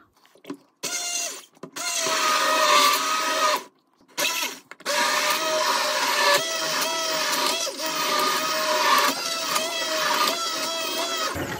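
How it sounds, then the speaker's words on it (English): A hand blender purées carrot and coriander soup in a pot, a loud steady motor whir running for most of the stretch with a few brief stops and restarts, heard alone without talk. "What I'm going to do is use a hand mix like this"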